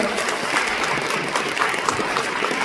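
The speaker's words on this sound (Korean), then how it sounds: "박수로 한번 환영하겠습니다." An audience at a Korean pastors' forum and open debate applauds to welcome a pastor, a thick, continuous wash of clapping from a large crowd that holds loud and steady throughout.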